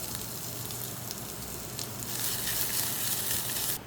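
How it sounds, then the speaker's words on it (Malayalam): Mustard seeds spluttering and crackling in hot oil, a steady dense sizzle that grows louder and brighter partway through, then cuts off abruptly at the end. "കടുക് പൊട്ടിക്കുക"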